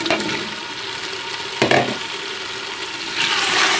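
Potatoes tipped into fenugreek (methi) frying in oil for aloo methi set off a steady sizzle, with a clattering stir midway and the hiss growing louder and brighter toward the end.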